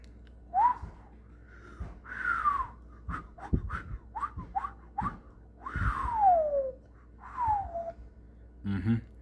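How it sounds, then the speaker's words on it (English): A person whistles a series of short, bright notes and sliding phrases, some rising and some falling, with brief pauses and audible breaths between them, close and alone. "Yeah, I can do the whistling."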